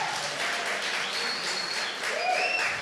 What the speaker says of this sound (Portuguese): dê um aplauso a Jesus, faça algum barulho